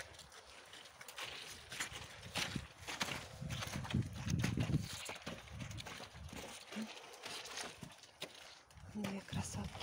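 A horse walking, its hooves giving irregular soft thuds and clops over a muffled outdoor background, fairly faint, with occasional voices nearby.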